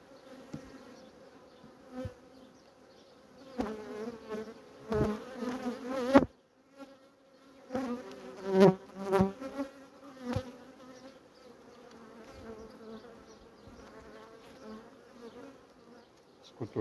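Honey bees buzz around an open beehive frame from a strong colony during queen-cell raising, a close, wavering drone that swells and fades in loud bursts.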